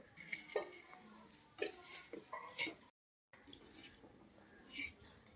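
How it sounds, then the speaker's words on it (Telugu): A spoon stirs and scrapes flattened rice (poha) frying in a pan, giving faint metallic clinks and scraping strokes in uneven bursts, with a short silent break partway through. "తాలింపు అటుకులు వేపుతున్నాను"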